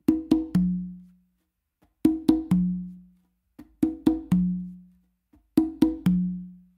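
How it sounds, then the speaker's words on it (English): Conga pattern repeated four times, each a quick cluster of sharp slaps and tones that ends on a ringing open tone on the tumba struck with the dominant hand, with short pauses between phrases. "to then finish it off with an open on the tumba with my dominant hand."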